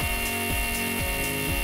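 A small milling cutter grinds steadily through soft aluminium, a continuous high whine with a rhythmic pulse repeating about every half second.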